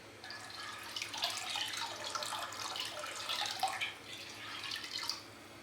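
Diluted rennet is poured into a pot of milk in a home kitchen, making a steady, close liquid trickle and splash that runs continuously with small bubbling drips and no talking.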